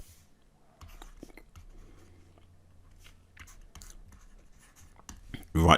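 A pen scratches across paper in short strokes and taps, soft and close, while someone speaks quietly over it, ending in a louder rustle.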